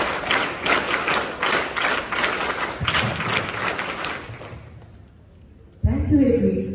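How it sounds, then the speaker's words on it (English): Students at a Kendriya Vidyalaya school assembly for Constitution Day clap together in a dense, rhythmic burst that stops abruptly, followed by a brief hush and then a voice at the microphone. "All clap, ready, go"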